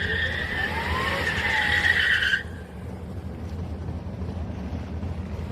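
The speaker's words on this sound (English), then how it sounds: "Yeah, it's a dragster." A dragster runs at Houston Raceway Park on a street night at the drag strip. A loud screaming engine and tire roar builds, then cuts off sharply after about two seconds, leaving distant crowd and track ambience.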